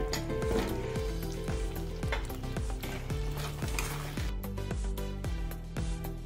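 Soaked pigeon pea lentils and fried drumsticks hit a hot wok and sizzle steadily, with a clear rhythmic ticking layered over the frying.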